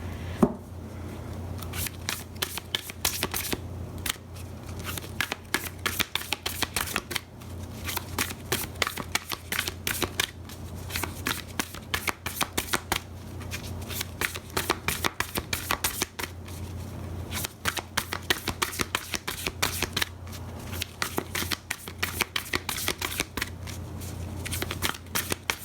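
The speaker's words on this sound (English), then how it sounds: "I'm not sure any cards actually want to come out of this deck." A deck of oracle cards being shuffled by hand, steady rapid papery riffles and slides repeating in bursts for the whole stretch, close and fairly quiet with no voice.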